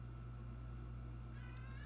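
A house cat gives a single faint meow over a steady low electrical hum, with a quiet voice in the background.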